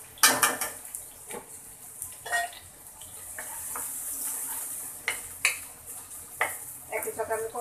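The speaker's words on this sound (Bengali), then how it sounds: "এদিকে বেগুনটা আমি ভালো করে কষিয়ে নিচ্ছি।" Eggplant sautéing in a pan, stirred with clattering utensil strikes and scrapes against the metal over a light sizzle, close by with irregular knocks and faint background voices.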